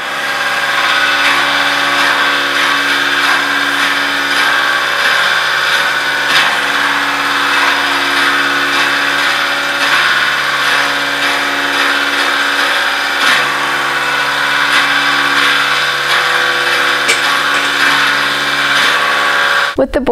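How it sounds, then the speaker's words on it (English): CNC mill boring the crank pin hole in a cast locomotive driver wheel for Union Pacific 844, a loud continuous machining drone with steady tonal whine, sustained throughout without pause. "the CNC mill completed the bore for the pin"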